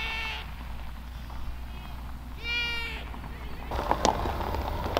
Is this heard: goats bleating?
yes